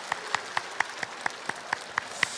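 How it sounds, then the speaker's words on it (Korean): A church congregation claps in unison during a service, about ten sharp, evenly spaced claps at a steady rhythm. "먼저 힘차게 박수해 주시고"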